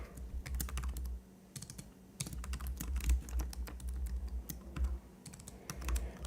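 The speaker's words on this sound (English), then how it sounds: "I really can't type today." Clicky, uneven bursts of typing on a computer keyboard at a desk, with quick keystroke runs broken by short pauses, close and fairly soft, with no talk.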